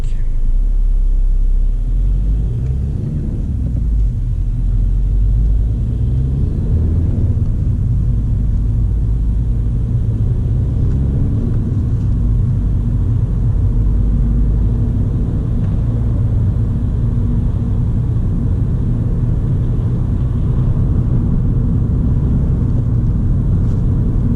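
A car drives along a country road, its steady low engine and road rumble filling the cabin throughout, with faint talk now and then.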